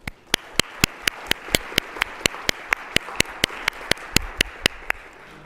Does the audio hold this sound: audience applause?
yes